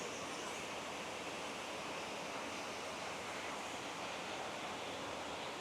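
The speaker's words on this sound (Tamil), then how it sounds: "அதாவது தண்ணின்ற சத்தமே வந்து கேட்குறதுக்கு அவ்வளவு நல்லா இருக்குது." Artificial waterfall in the Chinese Garden, Singapore, giving a steady, soft rushing hiss of falling water that stays even and unbroken, with no talk over it.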